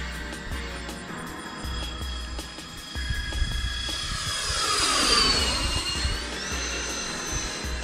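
An RC F-14 model jet's engine roars on a runway, a steady high whine that swells and sweeps in pitch midway as it powers up, loud and close with no talking.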